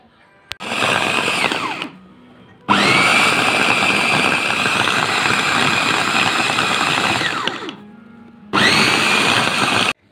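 A blender whirs loudly through onion and spices for a hawawshi filling in a home kitchen, running in three bursts: a short one, a long steady run, then another short one, with brief pauses between.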